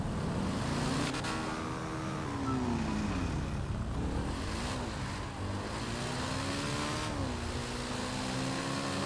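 A Nagasaki BF400 motorcycle in GTA V Online revs and shifts, its engine pitch climbing and dipping through several gear changes, steady and fairly quiet with no voices.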